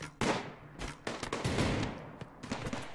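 Gunfire from colonists shooting in the video game Rimworld: a rapid volley of sharp overlapping shots over three seconds, with bursts clustering and fading into a continuous crackle of fire.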